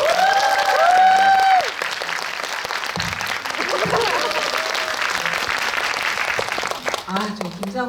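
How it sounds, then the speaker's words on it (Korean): Audience applause at a movie talk event in a Megabox Coex premium theater, a loud sustained burst of clapping from a crowd, with a few voices and brief tonal sounds mixed in near the start and end. "박수."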